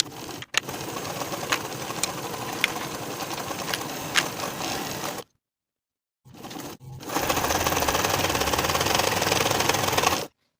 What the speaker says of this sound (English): we'll sew once more from top to bottom with about a 3/8 of an inch seam allowance